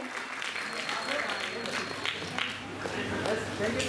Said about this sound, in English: Can I have some claps?